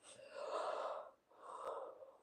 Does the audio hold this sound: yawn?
yes